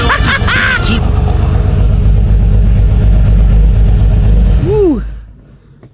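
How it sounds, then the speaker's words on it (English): A car engine with a NEXSYS PI engine management system and a fuel pressure problem runs loud and steady with a deep low rumble, then cuts off near the end and trails into quiet. A voice speaks briefly over the running engine. "So, you just saw I had the car started."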